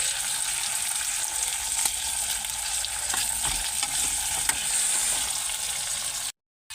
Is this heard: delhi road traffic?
no